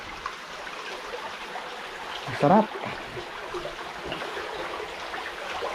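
Water flows steadily at a spring in a rock formation, a constant close wash, and a person speaks briefly over it partway through.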